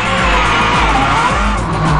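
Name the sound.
rally car accelerating on long straight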